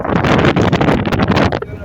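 Strong wind roars and buffets the microphone in loud gusts, with a rushing, broadband noise like open water or a boat deck.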